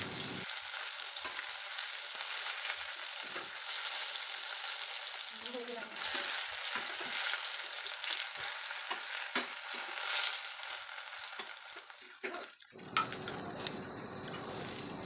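Pumpkin-leaf parcels stuffed with shrimp and lentil paste fry in a pan with steady sizzle, a cover lifted and a clatter near the end, while a voice speaks in places.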